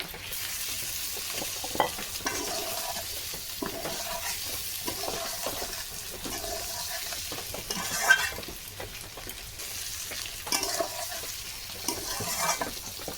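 Potatoes and fried eggs are stir-fried in a pan for egg bhuna, with a continuous moderate sizzle and irregular stirring scrapes and clinks throughout.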